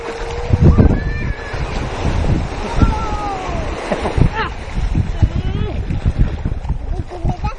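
Ocean surf at a beach in Pagudpud rolling in with strong wind buffeting the microphone, loud and continuous, while people talk over it.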